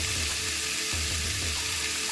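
Shrimp fried quinoa with bean sprouts frying in olive oil in a pan, giving a steady, close sizzle with a faint low hum under it and no talk.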